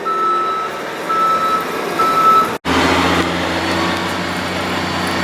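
A truck delivering gravel for a driveway, engine rumbling steadily while a high reversing beep repeats at an even pace, then a louder broadband rush of the load, close and loud.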